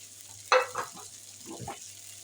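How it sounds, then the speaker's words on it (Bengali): Chopped onions fry in oil for a prawn bhuna, a faint, brief sizzle marked by a couple of soft scraping stirs. "এবার আমি পেঁয়াজটাকে লাল করে ভেজে নিব।"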